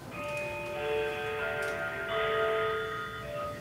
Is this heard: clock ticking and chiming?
yes